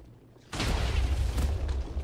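A loud, booming Minecraft explosion erupts suddenly in a mob battle, followed by a sustained rumbling roar of debris that fills the rest of the moment, with no talking.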